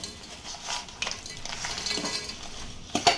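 Lumps of jaggery are stirred in a hot pan over a medium flame, giving a steady scraping, sizzling texture with a few louder spoon scrapes and clinks near the end.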